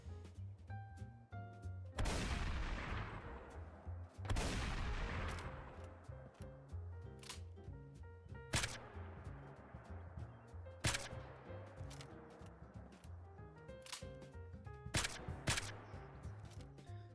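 A modded shotgun in Fallout 4 fires in both loud and suppressed variants, several sharp, widely spaced blasts with decaying tails over quiet background music.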